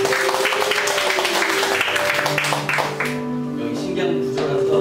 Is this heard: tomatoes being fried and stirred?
no